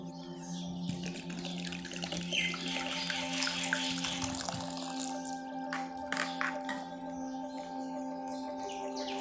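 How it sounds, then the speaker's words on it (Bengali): Wheat grains being washed by hand in water, with steady splashing and sloshing throughout and a constant low background hum. "আমি এখন গমগুলোকে ভালোভাবে ধুয়ে নেব।"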